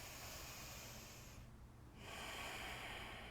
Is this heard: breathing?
yes